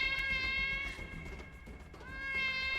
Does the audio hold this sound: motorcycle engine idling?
no